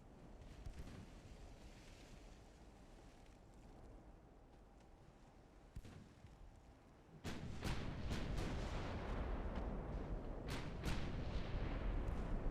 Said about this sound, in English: That main battery shots, they went everywhere but near where he was